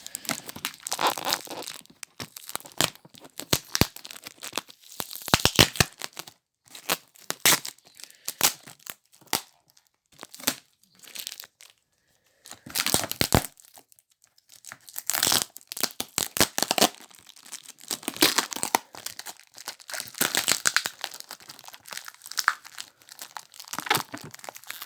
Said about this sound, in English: There we're going to put the sellotape off.